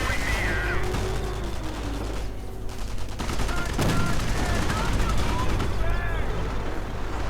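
A Sherman tank's .50 caliber machine gun fires in a World War II strategy game, with rapid bursts and explosions layered in a busy battle mix while a commentator talks over the action.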